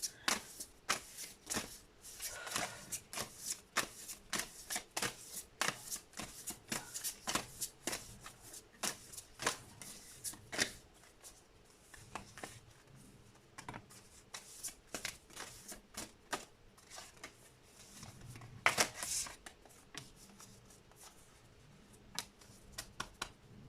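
Earthcraft Oracle cards being shuffled by hand for a long stretch, quiet, close crisp snaps and riffles in an irregular, busy pattern with a few louder slaps, no talking.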